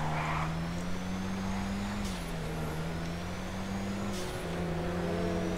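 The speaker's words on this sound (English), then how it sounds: "oh, they're jet skis" Jet ski engines in GTA roleplay, a steady droning motor hum with slight pitch shifts, continuous and fairly loud throughout, with no one talking.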